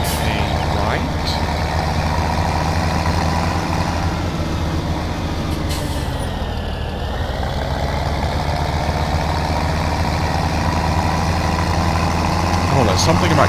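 A tractor engine in Farming Simulator 17 drones continuously and loudly at a steady pitch, with a brief rise and fall midway as it drives along a four-lane road.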